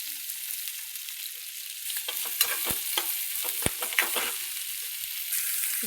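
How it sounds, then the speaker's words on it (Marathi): Onion frying in a pan and being stirred: a steady, moderate sizzle throughout, with a cluster of scraping and clanking stir strokes in the middle, with no talk. "मग कांदा टाकायचा. कांदा पण भाजला पाहिजे ना."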